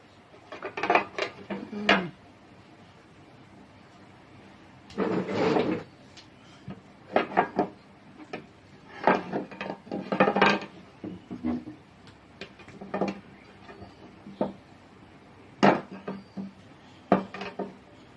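Broccoli and lemongrass being stir-fried in a pan, heard as scattered clattering of a utensil scraping and knocking against the pan in irregular bursts, fairly quiet and close, without talk.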